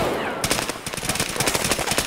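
Gunfire in Escape From Tarkov: a loud, close, sustained burst of rapid automatic shots, evenly spaced and continuous across the whole moment.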